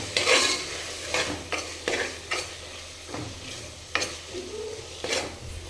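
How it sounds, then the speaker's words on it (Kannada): Ground masala being stirred with fried onions in a frying pan: repeated scraping strokes of a spoon against the pan over a continuous soft sizzle, close and fairly loud, with no talk. "ಈಗ ಚೆನ್ನಾಗಿ ತಿರುಗಿಸ್ಕೊತೀನಿ"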